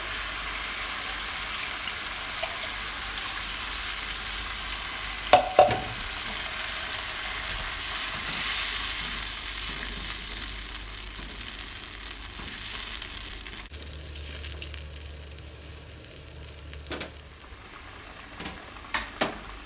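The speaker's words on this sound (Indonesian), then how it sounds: "ini bumbunya sudah mendidih" A pan of spice paste boils and sizzles steadily with a bubbling, frying hiss, close by, with a couple of brief clinks and a lower rumble near the end.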